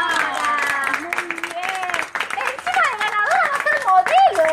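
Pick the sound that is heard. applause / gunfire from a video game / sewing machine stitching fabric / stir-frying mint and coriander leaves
applause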